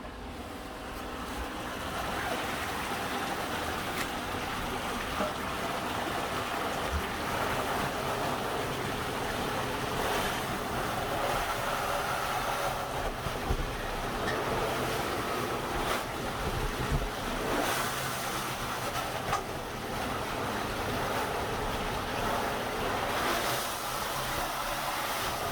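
A suction hose clears a sewer blockage with a loud, steady rushing roar of air and water that barely changes across the whole stretch, with no voices over it.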